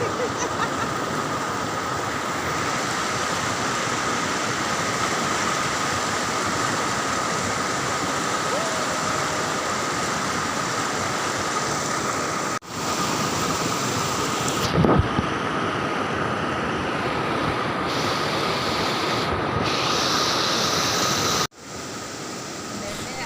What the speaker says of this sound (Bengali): জলের কীরকম স্রোত দেখেছো বন্ধুরা কেমন শো শো আওয়াজ হচ্ছে